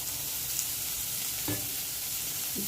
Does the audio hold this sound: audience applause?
no